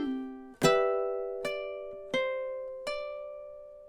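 A few plucked ukulele chords and notes ring out clearly, each attack decaying slowly, played at a steady, unhurried pace in a quiet room.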